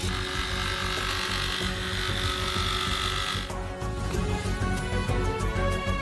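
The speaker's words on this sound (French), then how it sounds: "Et sciez le tuyau avec une scie sauteuse." A jigsaw cuts through a large plastic pipe for a giant DIY Kinder Bueno, making a close, continuous buzzing whine that shifts tone midway as the blade bites into the material.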